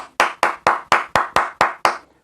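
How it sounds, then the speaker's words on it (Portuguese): A single person clapping hands, eight sharp, evenly spaced claps, close and distinct, each with a short decay, then silence. "Palmas pra você, Helena Raquel."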